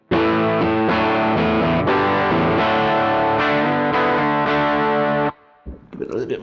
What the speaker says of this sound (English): then it takes pedals really well. You can put an overdrive in that.